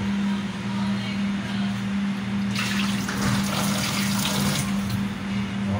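A tap runs steadily into a sink while saluyot leaves are washed, a constant close rush of water with a louder splashing stretch midway, under a steady low hum and a voice speaking.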